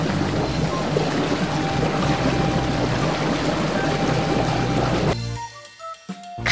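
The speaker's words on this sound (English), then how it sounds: "Boat." Water noise from a boat moving across open water, a steady broad wash and splash that fills the clip at an even level before dropping away near the end.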